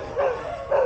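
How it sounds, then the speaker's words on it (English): A dog gives two short, close barks in quick succession, the second slightly louder. "I listen to the dog."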